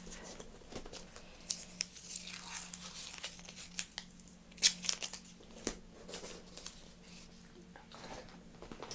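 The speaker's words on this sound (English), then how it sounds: "Get the tape ready for underneath." Beauty tape is torn and peeled for under the lashes in a quiet treatment room, giving close, soft crinkling and rasping tears in irregular bursts, with a few sharper rips.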